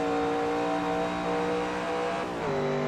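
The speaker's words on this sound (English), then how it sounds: "Hear the RPM start to spike on the exit" Vintage sports car engine in Assetto Corsa at classic Spa-Francorchamps, a loud steady high-revving drone that climbs and then drops in pitch near the end, constant and close.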